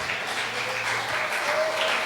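A church congregation at a miracle worship service applauds loudly together, a dense, steady wash of clapping that fills the space for a couple of seconds without letting up.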